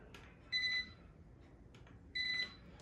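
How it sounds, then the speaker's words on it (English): A ScanAvenger barcode scanner gives short electronic beeps signalling it is disconnected, a second and a half apart, each a steady high tone over a faint room hum. "That's the 3 beeps. That indicates that the scanner is no longer connected."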